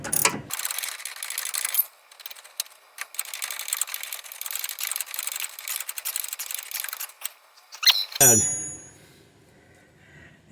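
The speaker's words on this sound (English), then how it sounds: "I'm on the flats with the wrench and just driving it home with a ratchet from the back." A 3/8-inch drive ratchet tightening a front sway bar link on a 2012 Mercedes GLK X204, heard as a fast close run of light clicking pawl ratchets in bursts, then a louder metallic clank near the end.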